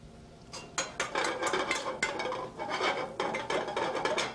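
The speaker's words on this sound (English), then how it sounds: "Then the apples go in." Apples tumble into a hot pan of crisp bacon and wilted onions, giving a run of close, sharp clattering and scraping sizzles that come in bursts, with no voices.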